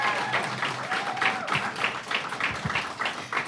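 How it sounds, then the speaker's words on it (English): Audience applause at a climate and militarism talk, a steady wash of clapping from a modest crowd that holds at even loudness for the whole stretch, with a faint voice briefly audible underneath. "can we all give them a round of applause?"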